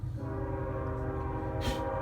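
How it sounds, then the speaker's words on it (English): A train horn sounds steadily with several sustained tones, somewhat distant, over a low rumbling background. "Sorry about the train horn."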